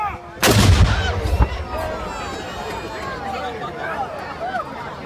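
Artillery gun fires a single loud, booming shot at an armed forces event in Trowbridge, followed by a rolling echo and the murmur of an outdoor crowd.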